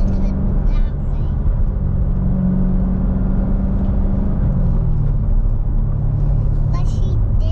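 A Corvette Z06 engine gives a loud, steady low rumble, with a brief drop near the start and a pitch shift midway, while people talk over it.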